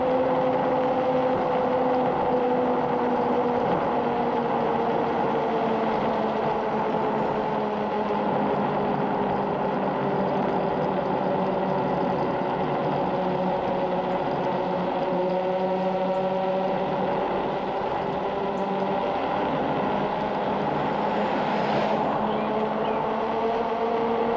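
A steady electric motor whine from an AUSOM Leopard electric scooter riding down a decline hums continuously, its tone gliding slowly downward and back, a smooth mechanical drone with faint road noise beneath.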